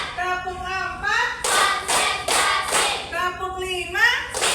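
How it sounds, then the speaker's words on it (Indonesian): A classroom of students claps hands in a counted rhythm, sharp bursts of clapping alternating with a teacher's spoken counting, the claps growing from single taps to quick grouped sets. "Tepuk 1, tepuk 2, tepuk 3, tepuk 4"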